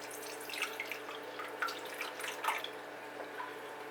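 Water pours and drips into a newly built 40-gallon reef aquarium, a faint, steady trickle with small splashy drips scattered throughout and no talking.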